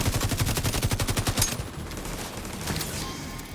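Rapid automatic gunfire aimed at the player in The Division 2 video game, a fast burst of close, loud shots lasting about a second and a half, then fading into quieter scattered shooting and ambient noise.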